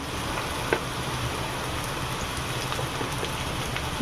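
Bitter gourd and onions fry in a pan with a steady, soft crackling sizzle that holds evenly throughout, with no talk over it.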